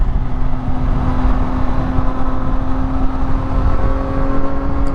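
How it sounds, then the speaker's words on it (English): A BMW S1000R motorcycle engine rumbles steadily and close throughout, a constant low drone with even humming tones on a commute ride, no one speaking. "growls really nicely and just rumbles real nice in like certain gears, like certain RPMs"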